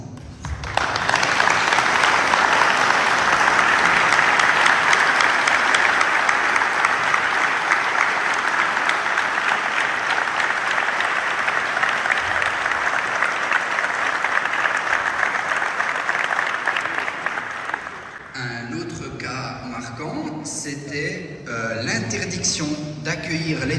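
Sustained, loud applause from a large standing crowd lasts for most of the stretch, then fades as a voice begins speaking.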